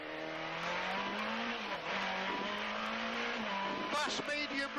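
Onboard a Peugeot rally car at the Jersey Rally, the engine drones and rises steadily under acceleration with a brief gear change. A co-driver's voice reads pace notes over the engine near the end.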